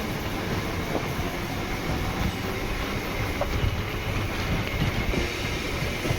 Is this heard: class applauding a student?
no